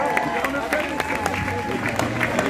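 Audience applause at a speaking event, a dense, continuous patter of many hands clapping at moderate loudness, with some crowd murmur mixed in throughout.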